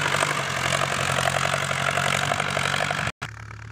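A Ford New Holland 6610 tractor engine runs steadily in reverse while levelling ground for a rice field. The loud diesel throb holds even and near, then cuts out briefly before returning.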